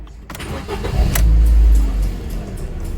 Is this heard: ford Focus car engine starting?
yes